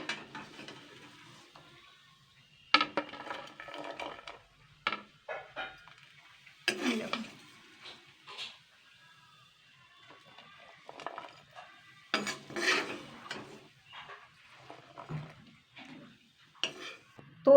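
Fried peas being transferred from a pan into a bowl, scattered clinks, scrapes and rattles of utensil on metal and crockery in irregular bursts separated by quiet gaps, close and moderately loud.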